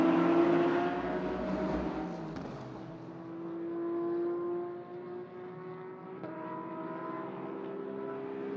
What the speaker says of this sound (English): The grunt of that Aston